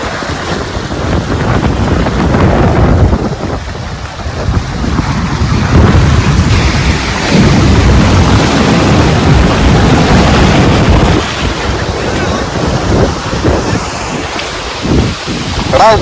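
Strong sea waves surge and crash continuously along the Kanyakumari coast, loud and close with heavy wind buffeting the microphone throughout.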